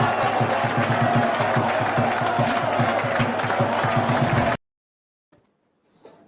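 A stadium crowd at Stadio Benelli applauds and cheers loudly, with rhythmic clapping across the stands. The noise cuts off abruptly into near silence.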